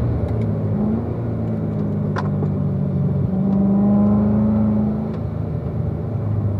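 A race car at a performance driving school lapping a track, its engine droning loud and steady at close range with a rising tone as it accelerates.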